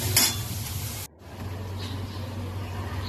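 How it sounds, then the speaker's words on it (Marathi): Poha ingredients sautéing in a pan: a steady, close sizzle with a louder stirring scrape at the start and a brief dip just after one second, then even frying continues. "चांगले परतून घ्यायचे."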